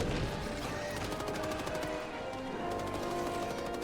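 Rapid weapon fire in the video game Helldivers 2 rattles in quick continuous bursts throughout, loud and dense, with no clear speech over it.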